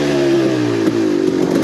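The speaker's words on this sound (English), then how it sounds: "Park it and see if she still idles pretty good." A Harley Panhead motorcycle engine idling close by, a loud steady low chugging rumble with slight uneven lope and a little mechanical clatter.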